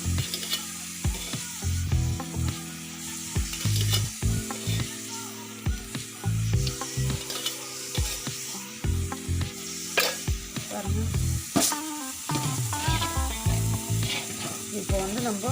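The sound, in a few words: oil sizzling in a hot kadai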